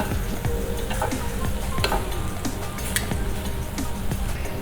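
Beef frying in a pan for beef burgundy: a steady crackling sizzle, close up, with scattered clicks and taps of stirring throughout.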